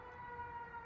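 A siren passing outside, a steady wailing tone with strong harmonics holding level and fairly faint through the short moment, with no talk over it.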